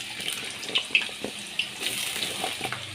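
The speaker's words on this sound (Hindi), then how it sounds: "ये देखिए ऑयल हमारा हो गया है गरम, उसमें हम ये आलू के पीसेस डाल दे रहे हैं।" Potato pieces dropped into hot oil in a pan, giving a steady close hiss of frying with a few small pops and crackles, without any talk.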